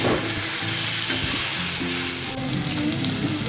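Tomato and coriander leaves fry in a pan with a loud, continuous close sizzle and faint stirring scrapes, no voices.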